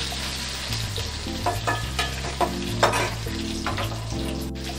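Curry leaves sizzle and crackle in hot oil while being stirred in a pan, a steady loud frying hiss broken by a few sharp pops and scraping stirs.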